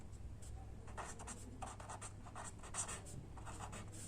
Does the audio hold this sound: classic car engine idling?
no